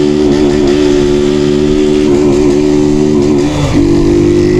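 A loud motorcycle engine idles and revs steadily at close range, its pitch dipping and rising near the end.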